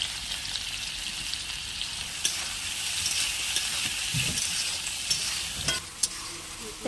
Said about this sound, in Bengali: আমি প্রথমে কড়াইয়ে সাদা তেল দিয়ে দিয়েছি। প্রথমে দিয়ে দিয়েছি বিনস এসব।